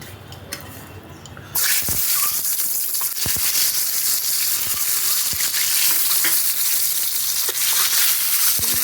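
Salted eggs drop into hot oil in a kadai on a gas stove. A quiet start gives way to a sudden loud sizzle that keeps going with crackles and spatters, close by and without talking.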